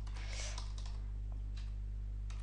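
Typing on a computer keyboard while entering a web address, a few quiet key clicks in a loose cluster over a steady low electrical hum, with no voices.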